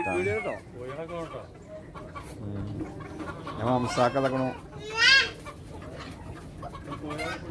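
Chickens cluck and squawk close by in short bursts at a livestock market in Jeddah, with people talking over and between the calls.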